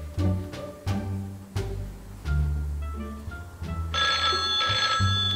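A telephone rings repeatedly in bursts, loud and near, with a brief musical jingle layered in and no talking.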